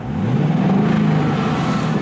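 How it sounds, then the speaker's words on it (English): An LS3 V8 swapped into a Mazda RX7 rumbles with a deep, steady roar that swells slightly, loud and close, with no voices over it. "the roar of the V8's incredible"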